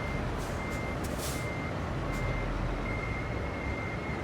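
A truck reversing a trailer in American Truck Simulator, its backup alarm beeping steadily over a loud, constant engine drone, with a few soft hissing bursts near the start.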